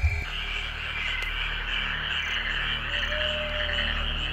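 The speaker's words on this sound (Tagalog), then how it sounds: "At tanging ang tunog ng mga kuliglig," A dense chorus of frogs croaking steadily through the night in the Philippine countryside, with insects trilling and a faint drawn-out call rising near the end.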